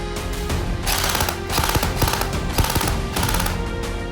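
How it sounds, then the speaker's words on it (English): Gel blaster toy gun firing at a target stand, a close, loud rapid string of mechanical bursts and clacks lasting a few seconds, with no talking. "So let's shoot at this target stand."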